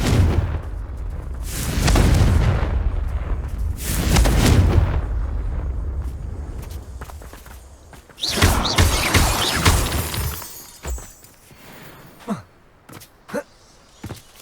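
Confringo fire spell blasts in Hogwarts Legacy, several loud booming explosions with crackling, shattering debris, the biggest burst around the middle followed by fading pops and crumbles.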